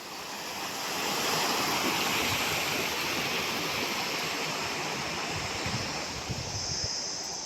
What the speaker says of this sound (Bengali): জল যে নামছে তার স্রোতের যে আওয়াজটা জল নামার আওয়াজটা সত্যি অসাধারণ লাগছে